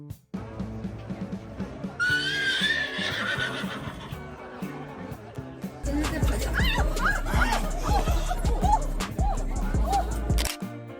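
A royal guard's horse whinnies loudly near the start amid a busy tourist crowd, with camera shutters and chatter around it; another neigh-like call rises briefly later over heavier background noise and talk.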